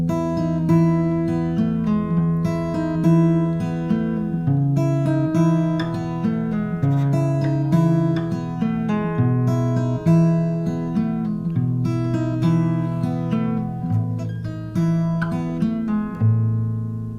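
An acoustic guitar strums a song's chord progression in a steady rhythmic pattern, with bright ringing strings and regular strum attacks over shifting bass notes, played close and alone.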